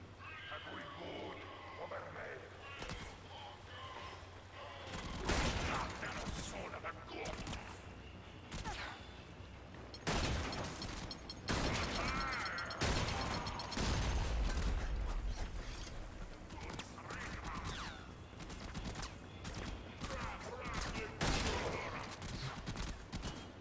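Gunfire in the Warframe shooter game, with dense bursts of shots and mechanical clatter that swell and fade over a long fight, often overlapping and loud, with a voice talking in places.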